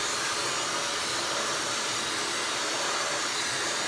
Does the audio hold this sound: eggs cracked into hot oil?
no